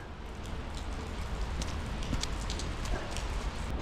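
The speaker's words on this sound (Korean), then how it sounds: "바깥에 지금 비가 내리고 날은 밝았습니다." Rain falls outdoors on a bright day, a steady wash of patter with scattered distinct drops ticking on nearby surfaces, moderately close and continuous.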